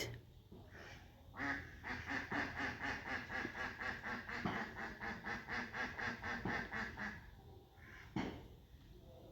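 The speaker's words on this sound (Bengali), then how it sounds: "প্রচুর হাঁস পেক পেক করে এখানে" Ducks quack in a steady rapid run of calls beside a stone-lined village pond, loud and close for several seconds, then fading to a few scattered calls.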